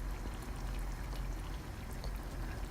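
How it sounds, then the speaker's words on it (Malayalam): Quarter of a cup of cooking cream goes into a simmering chicken methi malai gravy, a soft, continuous pouring and bubbling hiss that stays faint and even throughout. "so cooking cream ഒഴിക്കുകയാണ്,"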